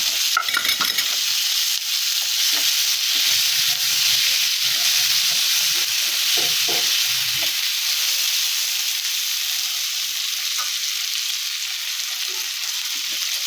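Chopped tomato sizzles in a pan with salt and turmeric, a loud, steady, hissing fry that holds for the whole stretch with faint clatter underneath, close and continuous.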